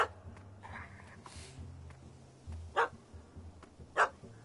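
A dog barks in the Witcher 3 video game, two sharp barks standing out over a quiet ambient game soundscape, with some faint yelps and music underneath.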